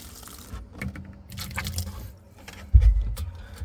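Hot water from a clogged refrigerator drain is sucked through a straw and spat into a container, with wet slurping and squishy splutters, close by, ending in a louder spitting splash.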